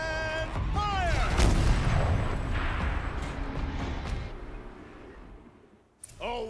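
Heavy turret fire in Horizon Zero Dawn Remastered, a deep booming blast that rolls out into a long rumbling decay, with whistling high tones and another sharp report at the end.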